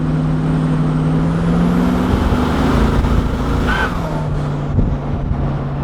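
A twin turbo V8 Toyota Land Cruiser with a tuned engine accelerates hard, its loud steady engine drone rising in pitch along with a high turbo whine, heard from inside the vehicle with no talking.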